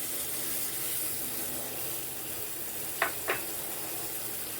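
Pork escalopes fry in a pan over maximum heat, giving a steady soft sizzle throughout with two brief sharp clicks near the end.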